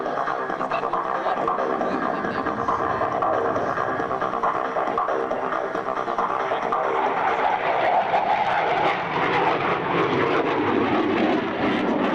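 A CF-18 Hornet jet fighter performs a demonstration at an airshow, its engine roar sustained and loud throughout, swelling slightly toward the end as it passes.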